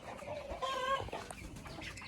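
Chickens cluck in an upgraded chicken house on a backyard farm, with a short run of tonal, squawky calls in the middle over steady barn background noise.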